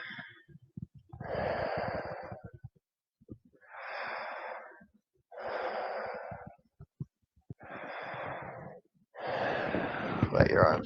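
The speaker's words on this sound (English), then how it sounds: "A few more breaths on this side." Slow, deep breaths during a restorative yoga session, each long inhale and exhale swelling and fading in turn, about five full breath cycles close to the mic with short pauses between.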